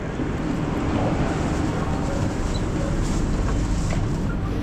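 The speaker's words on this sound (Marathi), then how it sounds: "मित्रांनो तर फायनली ट्रेन आली." A metro train in Thailand pulling into a station, a steady, loud rumbling roar of wheels and motors that fills the platform, with no clear talk over it.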